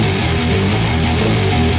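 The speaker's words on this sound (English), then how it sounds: "It's more like weird noise rock." A dense, loud noise rock track plays throughout, with thick distorted guitar layers, droning low tones and a constant wall of sound, no voices.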